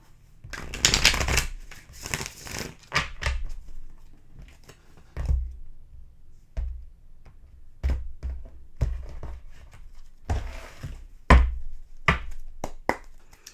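Tarot cards being shuffled in several quick bursts, riffling and soft taps from hands nearby, with short pauses between each round.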